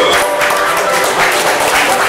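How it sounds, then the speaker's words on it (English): A crowd at a meet and greet in a lounge claps loudly and continuously, with voices mixed into the applause. "I would just like to get some applause for Arthur"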